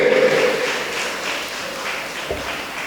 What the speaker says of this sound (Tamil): ஒரு பலத்த கைத்தட்டல்கள் அம்மா அவர்களுக்கு